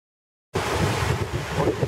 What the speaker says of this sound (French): très venteuse par contre, je m'excuse s'il y a bien du vent là